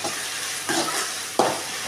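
Water sizzling hard in a hot frying pan of beans and carrots for hotel-style chicken fried rice, a loud steady hiss with two sharp stirring surges, no talk.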